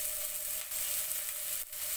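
Garlic and onion sizzle in cooking oil in a pan: a faint, steady crackling hiss with brief dips in intensity, heard alone without talk.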